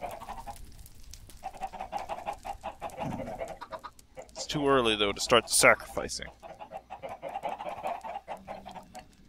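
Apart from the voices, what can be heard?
chickens clucking in the video game Minecraft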